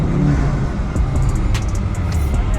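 A car revs and accelerates during a donut session, the engine note rising and falling up close for a couple of seconds, with a few faint high clicks and squeaks over the steady roar.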